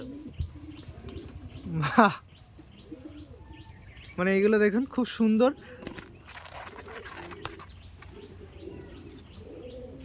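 Pigeons coo in soft throaty bursts, with a louder warbling run midway, while a person speaks nearby.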